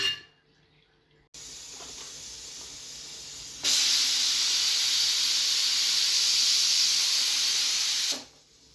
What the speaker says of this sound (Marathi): मी आता कुकरची 2 शिट्ट्या घेते म्हणजे जेणेकरून आपली मटकी छान शिजेल.